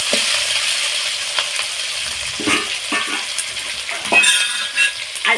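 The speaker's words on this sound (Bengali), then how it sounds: "টমেটোটা কিছুক্ষণ ভেজে নেবো" Chopped tomato and two slit green chillies fry in a pan for a banana curry, giving a steady sizzle with scraping stirs and clinks of a utensil recurring through the clip.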